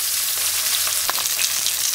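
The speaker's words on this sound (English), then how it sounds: "Then you just flip it on the other side." Steady, close sizzling of fish frying in hot oil for escovitch fish, a dense crackling hiss with occasional pops.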